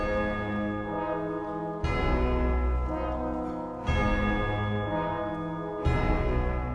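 Loud, resonant bell strikes from an orchestral performance of Pictures at an Exhibition, evoking Russian church bells: three heavy tolls about two seconds apart, each ringing out with a long shimmering decay before the next.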